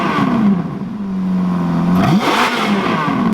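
Ferrari F430 Spider V8 turning over and firing, the revs flaring up then falling back as the engine settles into a steady, loud idle up close with no voices.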